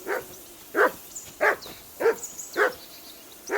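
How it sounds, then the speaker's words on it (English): A dog named Mutt barks in the Kingdom Come Deliverance 2 video game, about six evenly spaced, mid-pitched barks at moderate distance in a steady rhythm, with no talking over them. "Whistle at that mutt of yours to stop barking!"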